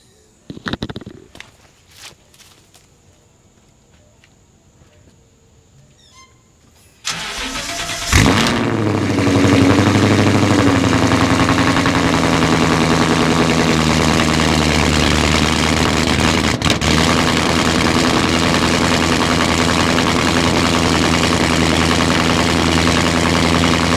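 A 2014 Ford Mustang 5.0 V8 cold-starts after quiet ambient rustling, with a sharp crank and loud roaring catch, then settles into a steady, loud high idle close to the microphone.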